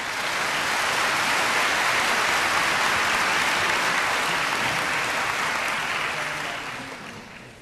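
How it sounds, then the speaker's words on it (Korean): A church congregation at a missionary conference claps steadily in warm welcome, a dense, even wash of applause that fades slightly at the end. "여러분 박수로 환영해 주시기 바랍니다"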